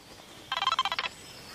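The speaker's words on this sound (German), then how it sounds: "Nö, das ist mein neuer Handyklingelton." A mobile phone ringtone plays a short burst of about ten rapid, evenly spaced electronic chirps lasting half a second, clear and fairly close against a quiet background.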